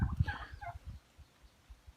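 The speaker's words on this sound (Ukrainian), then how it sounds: "То індик ходив, тепер індичка прийшла" A turkey gobbles in a rapid, rattling burst, followed by soft, scattered low clucks and thuds fading into quiet.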